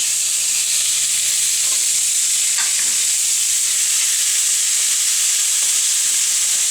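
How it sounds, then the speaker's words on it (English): Pork chops sizzling steadily on top of beer-braised onions in a pan, a dense continuous hiss close and loud, with a few faint clinks and no talking. "Put the meat back on top of the onions."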